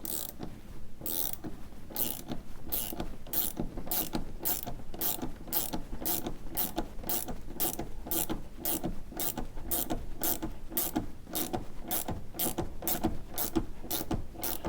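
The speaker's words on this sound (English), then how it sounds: "make sure my ratcheting box wrench is turning the right way" A ratcheting box wrench turns with steady, evenly spaced clicking strokes, close and crisp, repeating without pause across the whole stretch.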